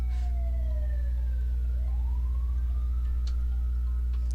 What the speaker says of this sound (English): Let's let this ambulance get past real fast.